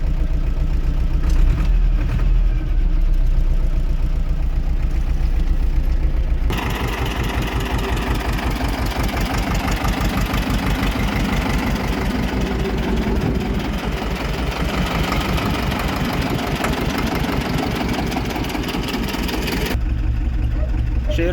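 A T-25 tractor engine idles, then revs up sharply for about thirteen seconds and settles back to a steady idle, loud and close throughout, with no voices over it.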